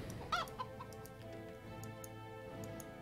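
A chicken clucks in the video game Warcraft 3, a few brief clucks near the start over a steady game soundtrack with faint ticking, no talk.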